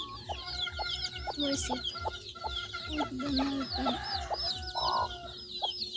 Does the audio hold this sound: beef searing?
no